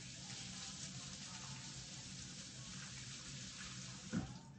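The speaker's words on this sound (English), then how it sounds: "And wash my hands." Tap water runs steadily into a sink as hands are washed beneath it, a soft continuous splash with a brief louder knock near the end and no talk.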